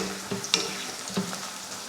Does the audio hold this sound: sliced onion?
yes